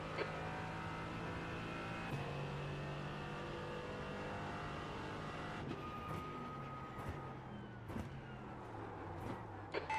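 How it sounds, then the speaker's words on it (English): Race car engines drone steadily in a VR sim racing game at Fuji, a sports car event, with a faster car closing in behind; the engine note shifts through gear changes and there are sharp clicks near the end. "There's a faster car approaching"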